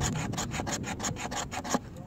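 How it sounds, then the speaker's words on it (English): A blade carves curl shavings from a piece of resin-rich fatwood for kindling, producing about nine quick rhythmic scraping strokes, close and clear, with no talking. "That's going to be the curl shavings."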